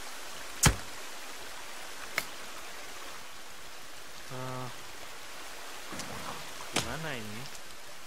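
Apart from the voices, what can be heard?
rain falling in the video game The Forest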